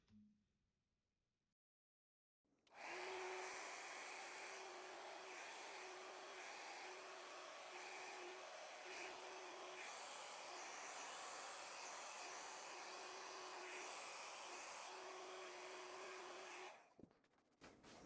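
After a brief quiet moment, a hair dryer switches on and blows with a steady, loud whooshing hum over a paint pour, then cuts off at the end.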